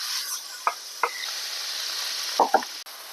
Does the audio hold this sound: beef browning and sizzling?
yes